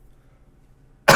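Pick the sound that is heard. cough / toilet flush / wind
cough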